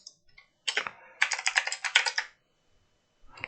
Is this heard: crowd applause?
no